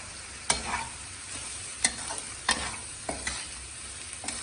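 A spoon stirs chaat masala and lime juice into a corn snack, making about five distinct scraping strokes at an uneven pace against a faint background hiss, with no talking.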